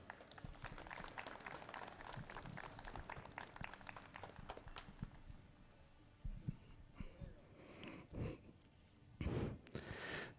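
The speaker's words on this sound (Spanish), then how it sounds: "Lo recibimos con calurosos aplausos." Applause welcomes a speaker at a university land-handover ceremony for a Faculty of Biological Sciences, Universidad Nacional del Altiplano: about six seconds of dense, fairly faint crowd clapping that fades into scattered bumps and rustles.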